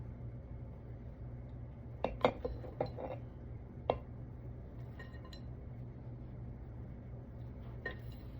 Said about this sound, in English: Let's go ahead and add that cake mix right on top.